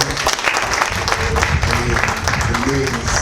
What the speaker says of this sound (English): I think they deserve a round of applause and more.